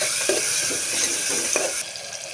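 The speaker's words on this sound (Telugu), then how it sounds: "ఫస్ట్ ఈ మష్రూమ్స్ కూడా కొంచెం ఫ్రై అవ్వాలి" Mushrooms frying in a pan with onions and turmeric give a continuous bright sizzle, close and loud, broken by a few soft stirring scrapes and a short dip near the end.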